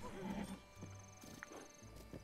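A horse in The Legend of Zelda: Breath of the Wild gives a short whinny and snorts. Hooves clop softly under game music, with some faint sound effects.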